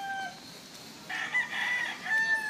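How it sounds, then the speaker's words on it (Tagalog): Chickens on a backyard poultry farm of thirty to forty birds cluck quietly, then a rooster crows loudly in the middle, followed by more clucking and a shorter crow near the end. "mga nasa 30 mahigit yung manok dito"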